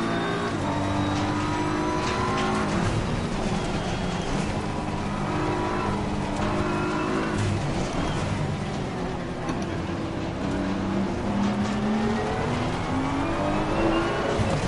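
Race car engines in Assetto Corsa Competizione, closely following a Porsche, roar loud and continuous with rising and falling engine pitch as gears shift, steady and close throughout.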